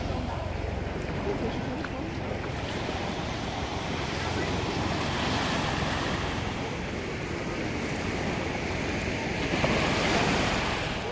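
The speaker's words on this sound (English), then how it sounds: "I walked down to Waikiki Beach, and this is what it looks like." Ocean surf rolling onto Waikiki Beach with steady wind buffeting the microphone, a continuous broadband wash of breaking waves that swells slightly near the end, with no other sounds standing out.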